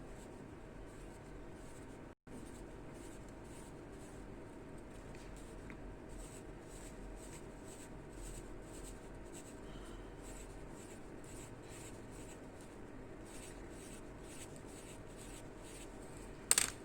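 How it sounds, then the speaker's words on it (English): Pencil or pen scratches steadily across paper while a histology diagram of connective tissue and muscle layers is drawn, a soft continuous rhythmic scraping close by with no talking. "So I am drawing connective tissue cells in between the muscle layers also."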